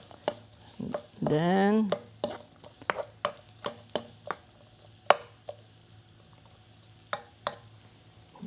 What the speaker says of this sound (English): Keep on stirring.